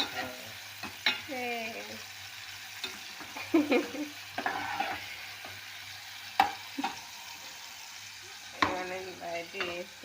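Chopped tomato frying in hot oil in a home kitchen for dosa chutney, with a soft steady sizzle and scattered scrapes and taps of a spoon stirring the pan, while someone talks quietly throughout.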